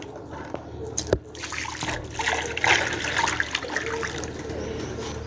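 Water pours and trickles into a container outdoors during chores in a rural home with pets, a steady splashing flow with brief knocks and no talk over it.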